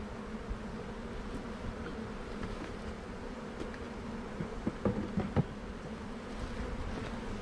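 Honeybees buzz steadily while a package of bees is installed into a hive, a close, continuous droning swarm with a few soft clicks and knocks from the hive parts.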